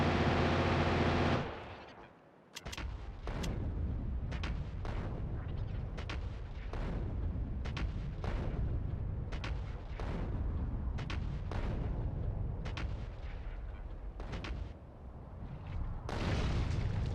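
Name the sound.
artillery fire in the video game Factorio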